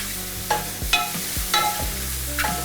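Mushrooms fry in a pan with a steady sizzle, broken by a few sharp clinks and scrapes of a utensil stirring them, close and at a moderate level with no talking.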